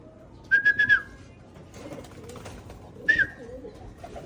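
Pigeons in recall training coo softly and low in the background, while short, sharp trilled whistle bursts ring out near the start and again near the end.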